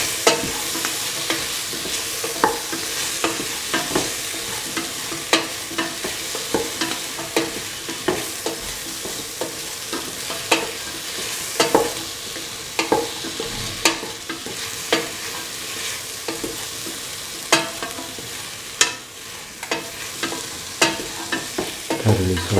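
A spoon stirs salt into an okra, carrot and coconut milk stew in a pot, with a continuous sizzling simmer beneath repeated clacking scrapes against the pan, close and steady without talk.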